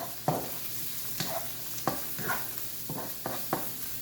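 Beef and garlic are stir-fried in a wok, with a steady sizzle broken by about seven sharp scraping strokes of a utensil at a loose, regular rhythm, close and clear.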